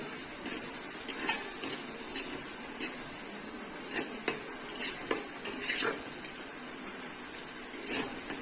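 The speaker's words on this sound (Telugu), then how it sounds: "బ్రౌన్స్ వచ్చే వరకు కొంచెం కలుపుతూ ఉండాలి." Salted onions fry in a pan for a Telangana fish curry, stirred until browned: a soft continuous sizzle under scattered light clinks and scrapes of a metal spoon against the pan.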